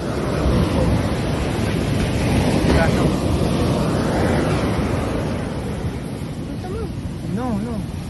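Sea waves wash steadily onto the shore at La Union, a continuous rushing surf with wind buffeting the microphone, and brief voices near the end.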